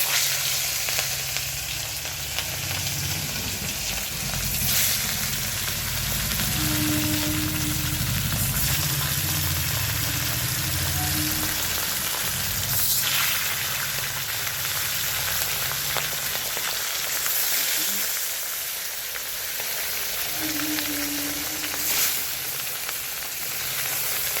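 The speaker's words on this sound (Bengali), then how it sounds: "এবারে আমি মাছগুলো দিয়ে দেবো মাছটা ভালো করে লাল লাল করে ভেজে নেবো" Rohu fish pieces frying in hot oil, a dense, continuous sizzle and crackle that holds steady throughout, close and fairly loud, with a few faint knocks.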